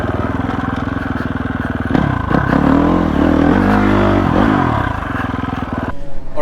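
A 2021 GASGAS EX 350F dirt bike with a wide-ratio gearbox pulls hard under load, its engine droning loudly and steadily, climbing and shifting in pitch as it revs through the gears without letting up.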